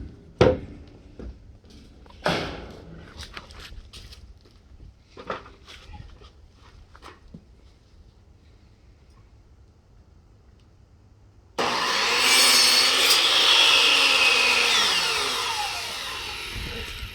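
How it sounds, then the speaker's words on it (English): Power saw cutting an extra strip of wood off a custom wooden dumpster trailer wall at the back corner, a loud steady cut lasting about five seconds after several sharp knocks and handling clatter. "And now I'll just cut that little bit of extra off."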